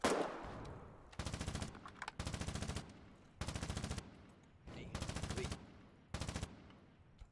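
Bursts of rapid automatic gunfire from the video game Foxhole, about six separate volleys of roughly half a second each, loud and evenly spaced, with quieter gaps between and no talk.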